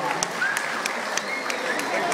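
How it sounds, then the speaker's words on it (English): A crowd at a sea lion show claps for Biffo the sea lion's 18th birthday, producing a dense patter of applause with a voice over it. "give him a round of applause"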